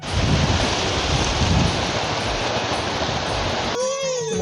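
The Pairi river rushes loudly in a dense, steady roar of churning water that cuts off abruptly near the end.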